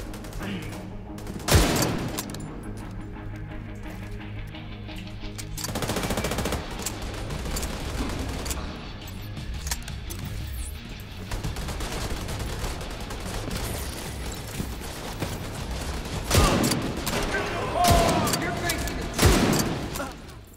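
Rapid gunfire bursts ring out in a Division 2 video game firefight, loud automatic volleys with sharp shots in several clusters, while someone talks over the action.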